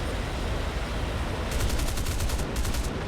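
Aircraft guns fire in the War Thunder video game, an F2H-2 Banshee jet in a dogfight. A rapid burst of evenly spaced shots starts halfway through, over a steady roar of engine and wind, with a brief pause near the end.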